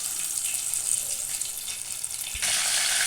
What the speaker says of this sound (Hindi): बहुत हल्की आग पे फ्राई किया है ताकि ये अच्छे से पक जाए